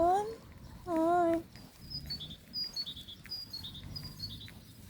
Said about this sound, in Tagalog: narinig niyo yung ibon?